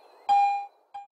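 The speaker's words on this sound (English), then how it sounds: "The third tone is either a bell tone or high tone, depending upon the operating mode." A Garrett AT Pro International metal detector rings its bell tone: a bright, clear ding that decays over a fraction of a second, followed by a shorter second ding.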